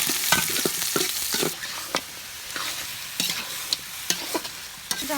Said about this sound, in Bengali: মাংস ভাজবো